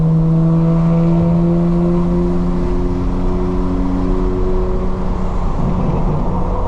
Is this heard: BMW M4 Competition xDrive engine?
yes